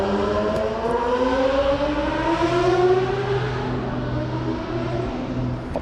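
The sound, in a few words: loud motorcycle passing by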